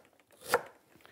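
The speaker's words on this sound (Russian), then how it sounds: "Поэтому я сейчас имбирь нарезаю вдоль на пластинки." A single crisp knife cut lengthwise through fresh ginger on a cutting board, short and close.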